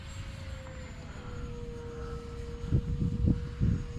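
An E-flite Timber Turbo Evolution RC plane flies with a steady, thin motor whine that holds a slowly shifting pitch at a moderate distance. Soft, low rumbling thumps rise near the end.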